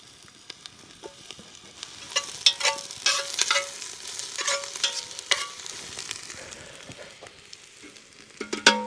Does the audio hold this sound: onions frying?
yes